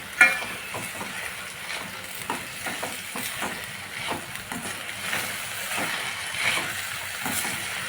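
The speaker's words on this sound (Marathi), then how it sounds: "आता हे भरडं शेंगदाण्याचं कूट घालून घेणार आहोत आणि ह्याला पण भाजून घेणार आहोत" Coarsely ground peanut powder roasting and being stirred in a pan with pumpkin leaves, giving a soft, steady sizzle broken by repeated scraping strokes of a spoon, close and fairly quiet.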